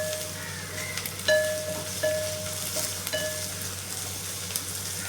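Onions sautéing in a pan for urundai kuzhambu, a soft continuous sizzle with a few short metallic spoon taps and scrapes against the pan.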